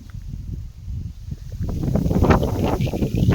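Cool wind on a mountain descent near Chong Yen, Kamphaeng Phet, blows against the microphone as low, gusty rumbling that starts faint and swells steadily louder and rougher toward the end.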